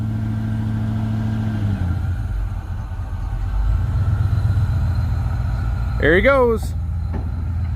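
A Ford Bronco with a freed-up, formerly rusted engine backs up, its low engine rumble steady and close, rising slightly partway through, with a brief squealing sweep near the end while people talk over it.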